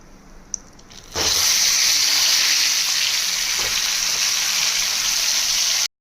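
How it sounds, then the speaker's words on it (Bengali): Fish head drops into hot mustard oil seasoned with salt and turmeric, bursting into a loud, steady sizzle that starts abruptly and continues close and unbroken until it cuts off. "এই তেলের মধ্যে একটু নুন আর একটুখানি হলুদ দিয়ে মাছটা দিয়ে দেবো।"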